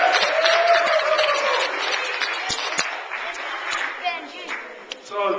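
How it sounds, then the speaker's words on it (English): Applause from an audience after a request to clap for the coolest kid in sixth grade, a broad burst of clapping that gradually thins out, with a voice talking over the start. "So let's have a clap for that."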